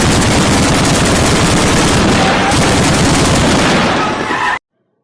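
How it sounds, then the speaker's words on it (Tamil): Battlefield gunfire and bomb effects from a border war scene, a dense, loud continuous barrage of rapid shots and blasts that cuts off abruptly near the end. "பாம் சவுண்டு இந்த மாரி"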